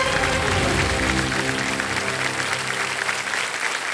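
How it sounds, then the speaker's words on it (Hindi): A crowd claps continuously and fairly loudly, the applause holding steady throughout, with a low tonal hum fading underneath. "तालियां बजती रहे"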